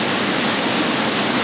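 A waterfall in an Idaho creek canyon roars as a steady, dense wash of white noise, loud and unbroken throughout.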